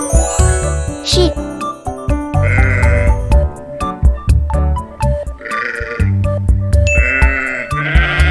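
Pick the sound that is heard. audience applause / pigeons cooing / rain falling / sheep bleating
sheep bleating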